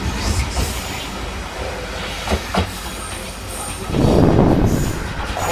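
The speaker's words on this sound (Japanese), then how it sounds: "この事故を起こしたですね、列車がね、引き下がっていきます。" A limited express train pulls away along the rails at Minoura Station in Kan'onji, Kagawa, Japan, wheels clacking with a brief squeal, growing louder near the end.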